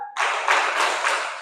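Classroom students clap together in rhythm, a loud burst of group clapping with a few pulsing accents over about a second, sounding close and full.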